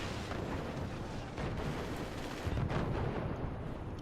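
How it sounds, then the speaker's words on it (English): Heavy mortars firing in a video game battle, a continuous dense rumble of muffled distant thuds and explosions blending into a steady roar, moderately quiet, with no speech. "the heavy mortars are making it through"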